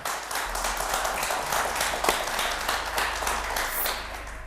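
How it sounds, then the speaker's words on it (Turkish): Studio audience on the Turkish game show Kelime Oyunu applauding, steady dense clapping sustained for several seconds at moderate loudness. "O alkışı bir duyalım."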